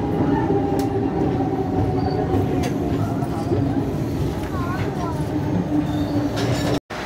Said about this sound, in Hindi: सो गाड़ी ने अभी हमको पहुंचाया यहाँ का सेकंड हॉल्ट इस ट्रेन का, जो कि है काटपाटी रेलवे स्टेशन